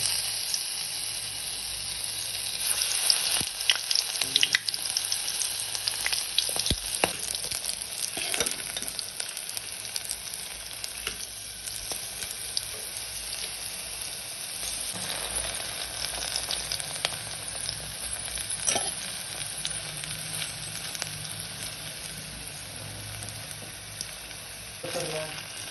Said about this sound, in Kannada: ಸೇಮ್ ಟು ಸೇಮ್ ಪ್ರೊಸೀಜರ್ ಎಲ್ಲ ಬೆಂಡೆಕಾಯಿ ಫ್ರೈ ಮಾಡ್ತೀನಿ.